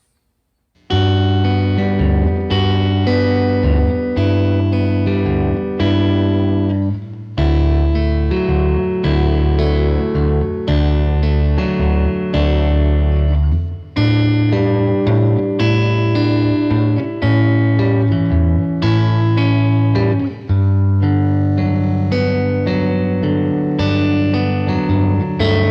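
Fender Stratocaster electric guitar with a refinished body played through a Dr Z Jetta amp, master near full and volume low, ringing out a loud, continuous, heavily effected song passage of sustained chords and notes with chorus-like shimmer and a few brief pauses.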